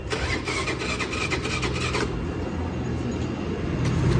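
A small engine revs and sputters, then settles into a steady, close idle hum.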